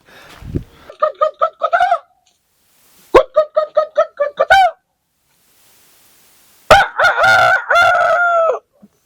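Loud, close rooster crows come in drawn-out bursts, mixed with rapid clucking from chickens and separated by short silences.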